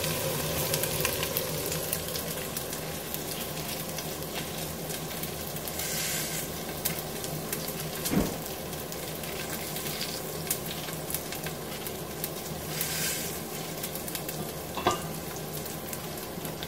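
Onion sizzles steadily in a hot pan where bacon has already been browned, for a Romanian green lettuce soup with egg, with occasional stirring clicks and no talking.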